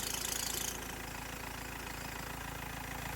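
A BMW M47 diesel car engine idles steadily after WD-40 is sprayed on the auxiliary drive belt, a loud, continuous mechanical drone with a brief hiss or squeal at the start that quickly fades into an even running sound.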